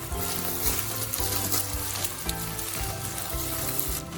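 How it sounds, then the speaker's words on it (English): Egg mix frying in vegetable oil in a hot wok for special fried rice, a dense close crackling sizzle that runs steadily throughout with faint scraping. "Time to heat up the wok, throw in some vegetable oil, and then the egg mix."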